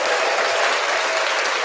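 Dense, loud audience applause fills the whole moment, a continuous wash of many hands clapping close by with no speech over it.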